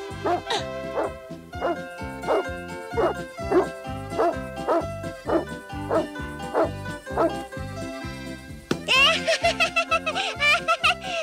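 A dog named Josef in an animated cartoon barks repeatedly in a steady run of about a dozen close, punchy barks, followed by a burst of higher excited yelps and voice-like squeals.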